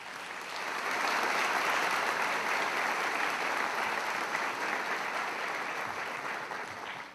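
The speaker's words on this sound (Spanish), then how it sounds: "demos un fuerte aplauso a nuestras familias que hoy nos acompañan" Sustained applause at a university graduation ceremony, graduates clapping for their families in a large hall, building quickly then holding steady and loud throughout.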